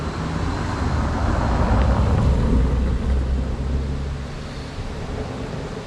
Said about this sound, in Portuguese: quando a gente grava na rua tem que dar uma paradinha que passa carro